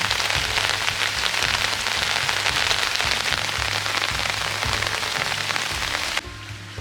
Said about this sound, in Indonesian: sekarang hujan pun kembali turun, meskipun hanya sebentar